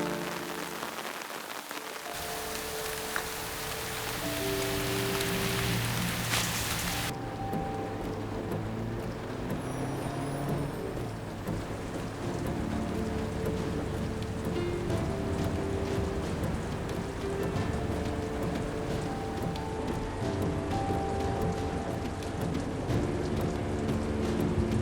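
A heavy rainstorm pours in a dense, continuous hiss, with thunder rumbling beneath and sustained musical tones layered over the downpour throughout. No voices are heard.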